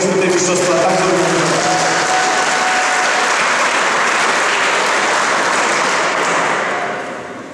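Loud, sustained applause from a large audience at the opening ceremony of the Poland Open 2011 sumo championships in Krotoszyn, a dense steady roar of clapping that fades out at the end.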